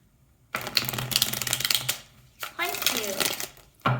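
Tarot cards are shuffled by hand in dense, rapid riffling bursts with a short pause in between, close and crisp, while someone speaks over part of it.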